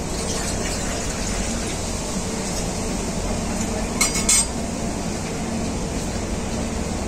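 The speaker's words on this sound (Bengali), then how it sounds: "কড়াইতে আমি জল দিয়ে দিচ্ছি।" Water pours into a wok set on a lit stove, a steady rushing splash that runs throughout, with a brief metallic clink of cookware near the middle.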